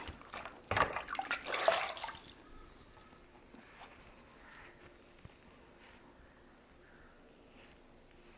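Cold water splashes and sloshes briefly up close as a face is washed, then settles into a quiet background with faint drips.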